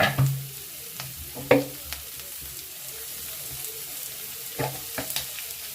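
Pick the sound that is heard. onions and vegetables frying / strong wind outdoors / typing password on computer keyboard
onions and vegetables frying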